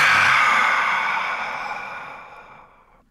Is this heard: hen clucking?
no